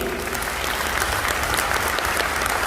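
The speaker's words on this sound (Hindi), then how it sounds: "जोरदार तालियां तरुण भाई के लिए।" Loud, dense applause fills the hall at a Modicare network marketing success event, a crowd clapping vigorously and continuously for a stage guest.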